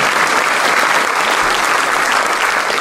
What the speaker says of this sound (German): Ich darf auch klatschen.